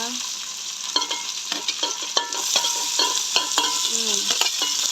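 Onion and green chillies fry in oil, with a bright, constant sizzle under a quick series of rhythmic scraping stirs, close and fairly loud, without speech.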